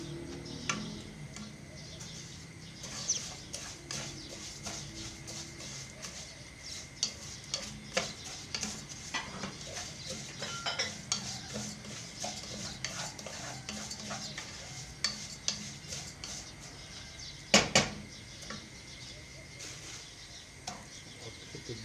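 Vermicelli stirred and fried in fat for rice with vermicelli, a steady soft sizzle under repeated scraping, ticking stirs close by, with a few sharper clicks near the end.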